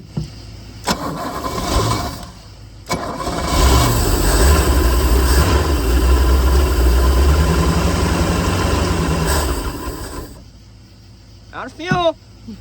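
Boat engine started without the choke on a restored boat: cranking bursts, then a loud steady running roar for several seconds before it cuts out, with voices talking over it.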